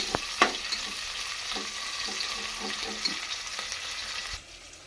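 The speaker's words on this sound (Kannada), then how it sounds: "ಒಂದು ಆನಿಯನ್ ಹೆಚ್ಕೊಂಡಿದ್ದೆ ಸೊ ಅದನ್ನು ಇಲ್ಲಿ ಹಾಕಿದ್ದೀನಿ" Chopped onion sizzles and fries in a pan for a home-cooked non-veg meal, a steady close hiss broken by a few stirring scrapes and clinks, cutting off near the end.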